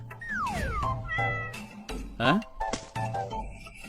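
A cat meows several times in quick succession, with drawn-out, rising and falling cries, close and fairly clear.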